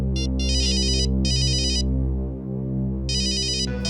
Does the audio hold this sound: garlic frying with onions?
no